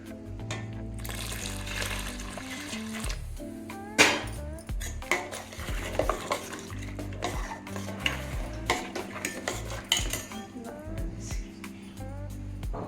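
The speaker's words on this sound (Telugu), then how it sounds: "ఇది ఇలాగ దగ్గరగా అడగంటకుండా తిప్పేసి" A spoon stirs milk and sugar in a cooking pan for a traditional sweet, with close scraping, repeated clinks of metal on metal and a soft liquid swish, occasionally sharper knocks.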